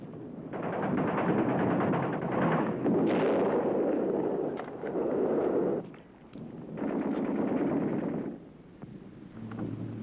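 An artillery barrage mixed with gunfire in a war film, heard as rumbling blasts and crackling shots in heavy, sustained waves with short lulls between them.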